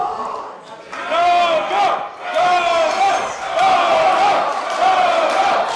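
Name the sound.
wrestling crowd cheering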